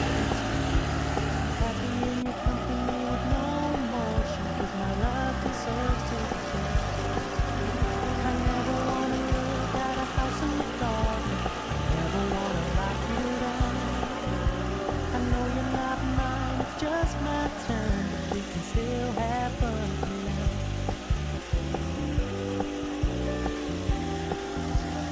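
A 3.5 hp outboard motor idling on a custom kayak, a steady droning, slightly uneven putter that runs without a break throughout, close and fairly loud.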